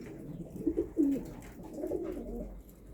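Racing pigeons in a loft in Szczecin-Dąbie give soft low cooing calls, a few rolling coos close by, quiet and without talk.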